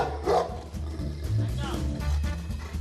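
Several very large Ovcharka guard dogs bark aggressively at visitors, deep repeated barks and growling rumbles close by, mixed with people talking.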